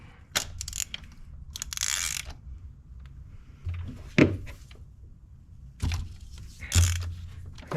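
Wrench loosening a spark plug on a Ford Bronco, a few sharp isolated ratcheting clicks and metallic clunks separated by quiet pauses, close and fairly soft.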